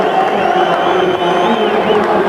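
Stadium crowd at a 1996 rugby league match between the Rabbitohs and Eels at Sydney Football Stadium, a steady roar of cheering and whooping from a modest crowd, loud and continuous throughout.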